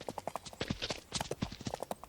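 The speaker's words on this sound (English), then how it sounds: "I knew at some point today there was going to be some galloping about at breakneck speed in our future." Horse hooves galloping in a video game, a quick run of sharp clip-clop strikes in an uneven rhythm, fairly close and clear with no talk over them.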